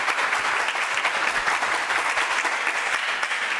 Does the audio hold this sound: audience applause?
yes